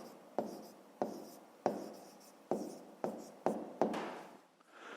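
A pen scratches across paper in a run of about seven quick, evenly spaced strokes while a number is written out for a school maths exercise, close and clear with no talking.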